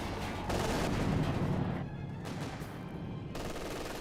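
MG42 machine gun fire in the video game Company of Heroes 2, a dense unbroken roar of rapid automatic bursts mixed with battle noise, loud and continuous with brief dips.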